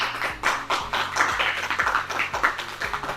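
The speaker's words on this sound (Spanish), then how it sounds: "Yo quiero pedir un fuerte aplauso para Tomás Sánchez Rubio" An audience at a Spanish literary conference claps for a speaker, with uneven, fairly close hand claps over a low, steady hum-like tone in the background.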